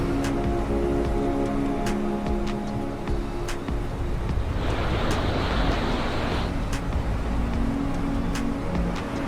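Steady roar of ocean waves and wind on a black sand beach in Iceland, with a louder wash of surf swelling midway, under a continuous musical tone.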